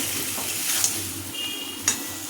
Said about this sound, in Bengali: সেগুলো দিয়ে নাড়াচাড়া করে দিচ্ছি মশলাটা একটু কষাবো